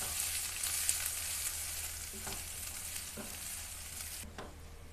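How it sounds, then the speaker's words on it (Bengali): Onions fry in a pan while being gently stirred, a steady soft sizzle with occasional scraping strokes of the spoon, fairly quiet and with no voices. "পেঁয়াজটা দিয়ে দিয়েছি, এবার আমি হালকা নাড়াচাড়া করতে থাকবো"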